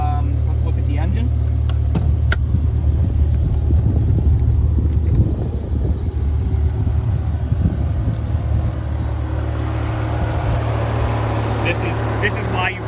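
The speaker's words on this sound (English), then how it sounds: "The engine's running fantastic." A 2007 BMW M6 engine idling steadily, a continuous low hum with a broadband wash of noise that stays even throughout, heard close up without any revving.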